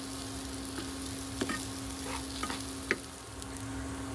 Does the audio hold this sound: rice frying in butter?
yes